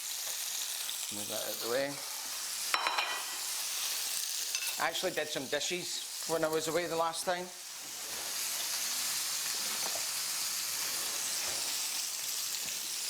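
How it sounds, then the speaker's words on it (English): Meat searing over high heat in a hot pan, a steady broadband sizzle running throughout while someone talks over it in a live cooking demonstration of Scottish cuisine. "What we're trying to do here is we're caramelizing the meat"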